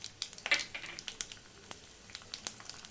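Quiet, scattered crackling and popping as tempering seeds and dried red chillies fry in hot oil, with irregular sharp pops over a soft sizzle.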